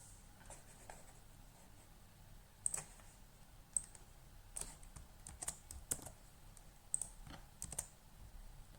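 Someone types a post title on a computer keyboard in a quiet room, with faint, uneven key clicks in short bursts and a few sharper taps standing out.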